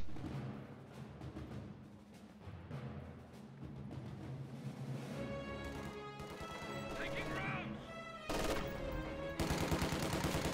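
Rapid bursts of MG42 machine gun fire and scattered battle noise in a strategy video game, dense and continuous under steady talking, growing heavier toward the end.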